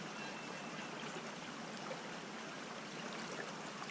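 Shallow creek water streams and trickles steadily over rocks outdoors, a continuous close hiss with no talking.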